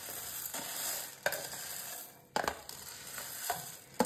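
Urad dal and garlic are stirred while dry-roasting in a pan, giving a soft continuous sizzle broken by several sharp scraping and clattering strokes of the spoon, close and without talk.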